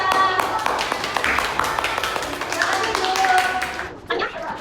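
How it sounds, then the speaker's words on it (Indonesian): Fourth-grade schoolchildren in a classroom clap for group 2 after a poetry performance, a busy patter of small hands mixed with children's voices and chatter. "kita berikan tepuk tangan untuk kelompok 2"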